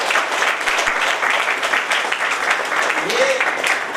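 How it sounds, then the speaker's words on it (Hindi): A seminar audience bursts into loud, continuous applause for a guest, dense clapping filling the room for the whole stretch, with a brief murmur of voices near the end. "मेरे महागुरु जी माधव सर के लिए जोरदार तालियां।"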